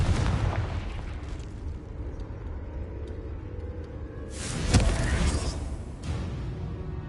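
A Confringo fire spell explodes in the Hogwarts Legacy video game, a booming blast midway through that rises out of a constant low rumbling game ambience and then fades back into it.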